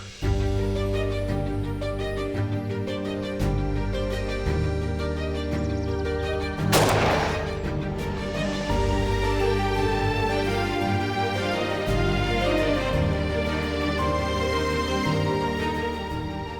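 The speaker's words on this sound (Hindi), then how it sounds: "मैं गोली चला दूं ना?" A single sharp gunshot cracks out midway in a Turkish drama dubbed in Urdu, loud and sudden, over continuous background music.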